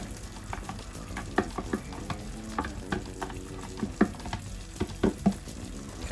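Teriyaki chicken and vegetables sizzle and fry steadily in a pan with sauce, with repeated stirring scrapes and clinks throughout, close and fairly loud, no talking.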